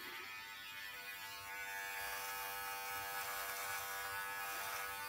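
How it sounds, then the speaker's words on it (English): A Brio Beardscape electric beard trimmer runs continuously, a steady high-pitched motor buzz and whine heard close up and alone, with no talk. "So it's a beard trimmer, not a razor."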